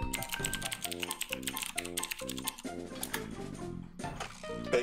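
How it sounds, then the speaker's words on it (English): Fingers type on a computer keyboard in quick, uneven bursts of clicking keystrokes, close and clear, with a brief pause near the end before more typing. "Thank you for typing that, Derek."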